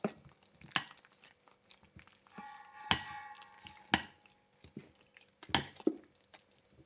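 Fermented jackfruit dosa batter is stirred with jaggery in a bowl, giving soft, wet squelching strokes and scattered sharper taps of a spoon against the side, fairly quiet with pauses between movements.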